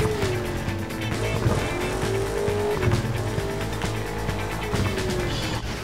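A car drives in the racing video game Burnout Paradise through an open city, its engine roaring loud and steady throughout, with tire squeals and skids layered over the continuous motor noise and no talk.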